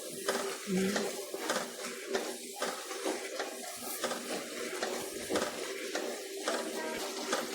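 Biko, a sticky rice cake, is cooked and stirred in a pan, with repeated close scraping strokes over a soft sizzle.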